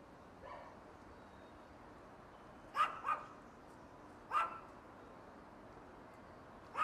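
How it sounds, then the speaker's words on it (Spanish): A small dog on a house rooftop in Puerto Rico barks a few times in short bursts, fairly distant and faint over quiet background ambience, with no talking. "¿Vieron ese perrito en el techo,"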